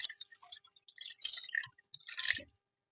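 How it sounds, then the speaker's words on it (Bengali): Water poured over boiled eggs in a pan to cool them makes a faint, close run of drips and wet splashes that come in short uneven bursts and then stop. "ডিমটা ঠান্ডা হওয়ার জন্য উপর থেকে দিয়ে দিচ্ছি পানি।"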